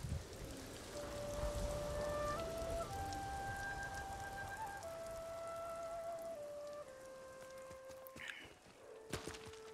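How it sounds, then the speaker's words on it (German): Steady rain patters on surfaces in the video game Ghost of Tsushima, a dense even hiss with melodic tones drifting over it and a few sharper clicks near the end. "Regnet schon wieder."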